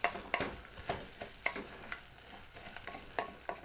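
Rice being stirred through onions frying in oil, with repeated scraping strokes of a utensil in a pan over a soft background sizzle, close and fairly quiet.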